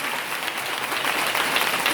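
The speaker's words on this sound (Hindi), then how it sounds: "जोरदार ताली बजाते," A church congregation clapping loudly during a Hindi sermon, a dense, continuous wash of hands from start to finish with no voices over it.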